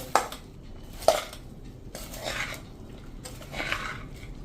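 Puffed rice being mixed with melted jaggery in a pan, with a few sharp metallic knocks of the spoon against the pan and soft rustling, crunchy stirring between them.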